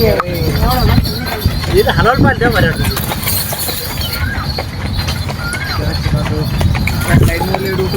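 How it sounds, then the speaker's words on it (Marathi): A horse clip-clops along a road toward Shirdi with steady hoofbeats, heard against road noise. Someone talks over it throughout. "घोडा चालतोय."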